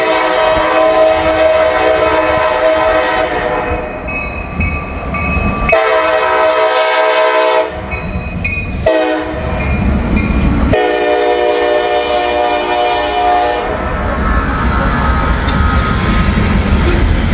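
Loaded coal train C700 thunders past with its lead locomotives, the horn blaring in several long blasts broken by short gaps over the loud, steady roll of wheels and wagons.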